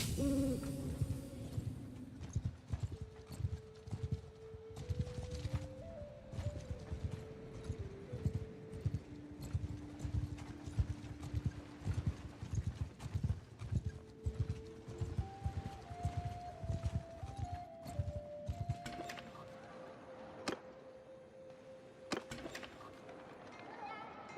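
Horse hooves clip-clop in the Old World mod of a fantasy strategy game, a steady walking rhythm of soft thuds that runs the whole time beneath a game music melody and ambient tones, with brief talk over it.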